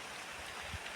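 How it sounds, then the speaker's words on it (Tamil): Heavy monsoon rain pours steadily over a flooded yard in Vedaranyam, Tamil Nadu, with water running across the ground, a dense continuous wash of noise close by and no voices. "நல்ல பெருமழையாக தூரிகிட்டு இருக்கு."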